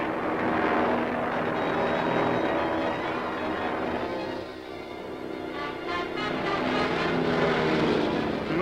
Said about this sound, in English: And what's that other plane doing there?